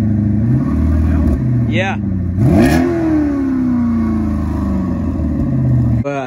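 A Cadillac STS with an updated exhaust revs hard several times, loud and close, with sharp rising and falling sweeps. A person speaks briefly.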